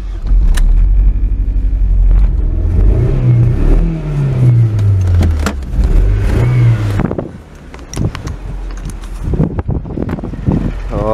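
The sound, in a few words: sporty Ford car engine revving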